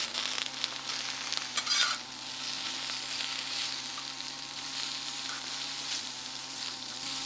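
Butter sizzles steadily on a Tembo Tusk Skottle griddle, a constant faint hiss and crackle from start to finish with a few brief scraping touches early on.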